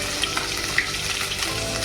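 Chili paste sizzling in hot oil with cumin and whole spices, a close steady frying hiss with a few brief pops and crackles.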